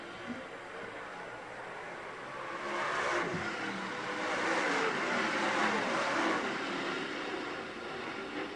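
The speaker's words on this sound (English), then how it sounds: "Here comes David Zona down the back straightaway, and Zona's going to go to second." Late model race cars at Utica Rome Speedway roar past at a distance, a steady broad engine drone that swells in the middle of the pass and then eases, with no talk over it.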